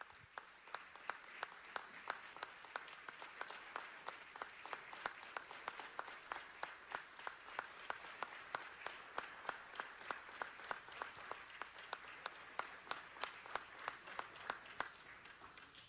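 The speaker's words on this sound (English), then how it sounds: "Could we please give them the type of a round of applause that they truly deserve?" An audience at a Veterans Day 2015 ceremony in Los Angeles applauds veterans: sustained, dense clapping from many hands, steady and moderately distant, continuing alone for the whole stretch.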